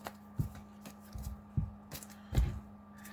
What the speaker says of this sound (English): So I will be shuffling this mountain, this spell, and this forest back in.